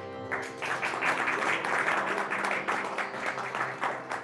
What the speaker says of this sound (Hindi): सब लोग अपने अपने लिए ताली बजाइए।